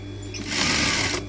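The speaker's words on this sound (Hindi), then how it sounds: "सिलाई लगा लेंगे।" A sewing machine stitches a coat collar in one steady whirring burst of about a second, close and loud, starting and stopping cleanly with a faint hum around it.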